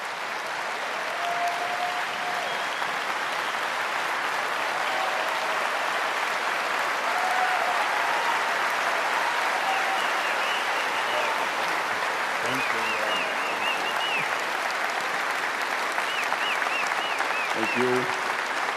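Steady, sustained applause from a large church audience welcoming a speaker fills the room, dense clapping at an even level with a few faint voices underneath.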